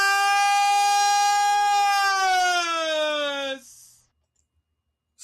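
A siren sound effect, a loud rising-and-falling harmonic wail that holds for about three and a half seconds, then cuts off into near silence.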